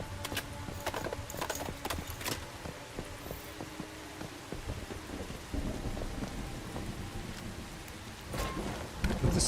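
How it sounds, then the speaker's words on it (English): Steady rain falls in a western-themed video game, with horse hooves clip-clopping in irregular clusters over the hiss and a faint rumble of thunder, moderately quiet throughout. "With the sound of the rain in this game."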